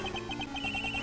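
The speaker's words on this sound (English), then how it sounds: "That's her cell phone." A cell phone rings in the game Ace Attorney Investigations 2, a rapid electronic trilling tone repeating in short even pulses, steady and close over a faint musical background.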